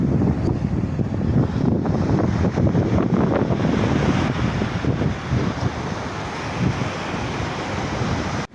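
Strong wind roars against the microphone while waves wash and churn steadily nearby at the shore, a dense, unbroken rush of noise.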